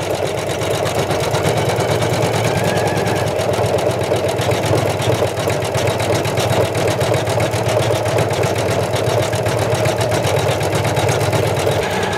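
Sewing machine running continuously at a steady, fast, loud pace, a dense mechanical chatter with a low motor hum and no pauses or voices.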